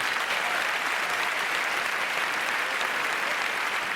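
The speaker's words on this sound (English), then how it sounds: "big round of applause for Amanda." Loud, continuous audience applause at a live comedy show as a woman named Amanda is called up on stage, a thick even wash of clapping with no talk.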